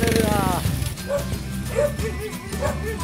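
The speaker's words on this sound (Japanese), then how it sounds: "むちゃくちゃ犬に吠えられてますね" Dogs bark at visitors arriving at a house in Oslob, Cebu, giving several sharp, repeated barks and yips at moderate distance, mixed with a whine at the start and people talking nearby.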